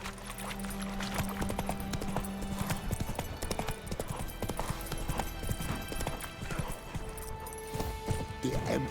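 Roach the horse's hooves clip-clop in a steady walking rhythm in The Witcher 3: Wild Hunt, close and continuous, with a brief whinny, a tonal background drone and someone speaking at times.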